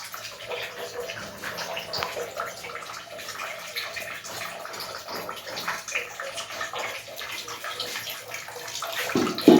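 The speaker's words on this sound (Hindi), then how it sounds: "इधर पानी का तो हो गया टैंकी में, टूटी चल रही है" Water runs steadily from a tap into a water tank, a continuous close splashing rush that grows a little louder toward the end, with no one talking.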